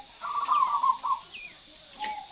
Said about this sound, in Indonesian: Ini pagi hari pengembunan burung perkutut ya.